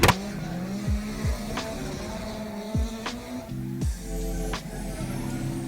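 Cars tandem street drifting through a city in Japan, engines revving and bouncing off the limiter with repeated rising and falling pitch sweeps, fairly loud and close with faint tire noise.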